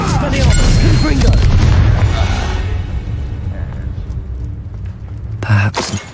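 Spell explosions from the Hogwarts Legacy video game: loud, dense booming blasts in the opening seconds that fade into a low rumble, then another sharp burst near the end.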